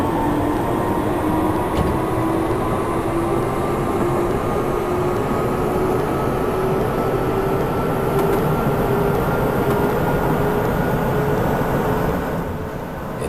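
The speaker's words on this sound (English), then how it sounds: "let's just get this train underway" Train Simulator game audio of a Japanese commuter train on the Keisei, Toei and Keikyu lines getting underway: a continuous rumbling roar with a steady rising electric motor whine, loud and unbroken throughout.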